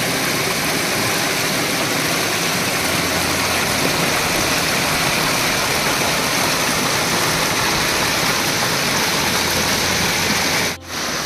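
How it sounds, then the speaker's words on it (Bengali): A waterfall pours in a steady, dense, full-bodied rush close by, unbroken throughout with only a brief dip near the end. "তো একটা সঙ্গে ওয়াটারফলও আছে, তো ওয়াটারফলে উঠে আসলাম।"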